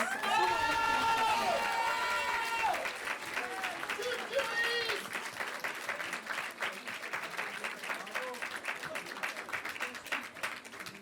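An audience at an eloquence contest applauds the team: dense clapping begins under a speaking voice with a held musical note, then continues alone and thins slightly as it goes on.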